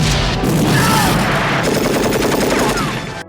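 Heavy gunfire and explosions in a Rambo film battle, with rapid bursts of machine-gun fire over deep booms, loud and continuous throughout.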